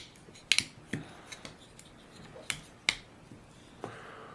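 Small plastic clicks and snaps as the feet of a Transformers Titans Return Broadside toy fold down, several crisp close-up ticks scattered irregularly in a quiet room.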